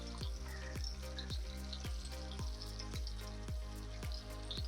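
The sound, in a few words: wontons frying and sizzling in oil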